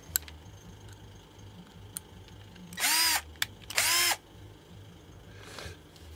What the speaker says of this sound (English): What do you say we put the bottom screws in first?